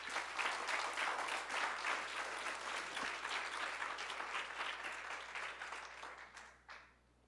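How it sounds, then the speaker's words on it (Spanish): A church congregation claps during a sermon, sustained, even applause from many hands that holds steady for several seconds before tapering off near the end. "Dele un aplauso a Cristo"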